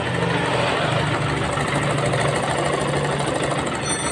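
A Suzuki GD110 motorcycle engine with a noisy cylinder head idles noisily and steadily throughout, a rough mechanical rumble with constant rattling and no pauses.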